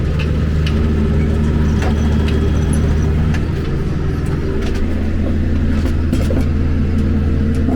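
A tractor rumbles steadily along potato rows during harvest, digging potatoes into crates, its loud, continuous engine drone close by and unbroken throughout.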